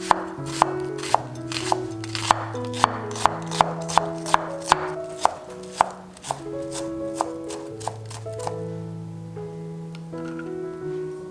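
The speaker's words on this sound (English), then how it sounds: "So we're gonna chop up our red onions to add to the ground beef mixture." Red onions are chopped with a knife on a board for a ground beef mixture: a steady run of sharp, evenly spaced knife taps over soft background music, with no talking.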